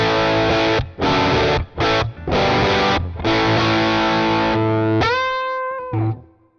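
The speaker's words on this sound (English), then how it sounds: "That's a very natural sounding overdrive" Electric guitar played through an EHX Germanium overdrive pedal, a warm, natural-sounding drive: loud strummed chords in several bursts with short gaps, ending on a sustained ringing chord that fades out.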